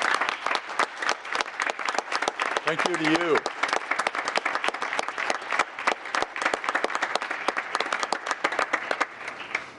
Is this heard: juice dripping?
no